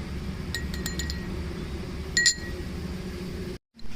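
A spoon clinks against a bowl while rose water and kewra water are stirred into a prawn biryani mixture, giving a few light, bright metallic taps over a steady low background hum.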